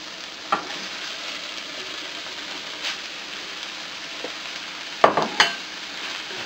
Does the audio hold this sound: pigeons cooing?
no